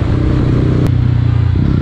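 Mahindra Mojo motorcycle being ridden, its engine a steady low thrum throughout with a brief sharp clack partway through, close and continuous.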